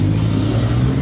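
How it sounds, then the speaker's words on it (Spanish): A Hero Xpulse 200 motorcycle engine running, a steady close mid-pitched rumble at an even pace, loud and continuous without speech. "Señores, la moto funciona con una elegancia."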